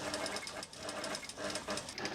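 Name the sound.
dressmaker sewing a tulle and organza flounce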